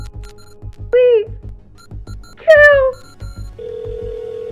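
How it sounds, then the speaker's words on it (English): A cell phone rings in an animated story: two short, bright, falling tone chirps followed by a steady held tone, loud over a quiet, continuous low background. "my cell phone started ringing"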